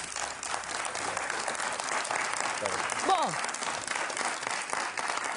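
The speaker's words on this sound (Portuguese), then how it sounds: "Bem-vindo, um grande aplauso" Audience applause welcoming an anti-aging physician to a television studio; steady, dense clapping fills the clip, with a voice speaking over it.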